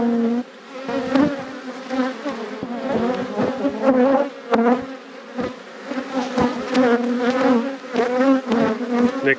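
Honey bees at the hive during a brood inspection, loud and very close, their wingbeat hum wavering in pitch as individual bees fly past.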